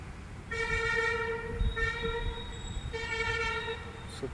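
An East Coast Railway train sounds its horn in two long steady blasts separated by a short gap, loud and fairly near over low rumbling background noise.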